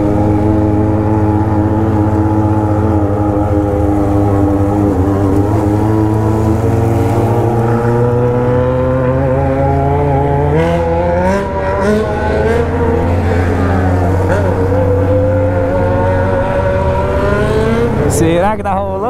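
BMW 1200 motorcycles ride together with a loud, steady engine drone throughout, pitch rising and falling as throttles shift, with a sharp rev near the end; no clear talk over the engines.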